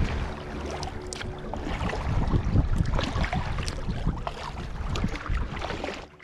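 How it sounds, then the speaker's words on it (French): Rough water splashes and rushes steadily against a kayak on a large lake, waves washing over it, with wind buffeting the microphone throughout. "Ça fait quelques vagues là, qui passent par-dessus."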